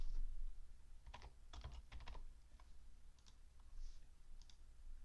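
Keys clatter on a computer keyboard as information is typed, short bursts of quick clicks separated by pauses, close and fairly quiet, with no talk.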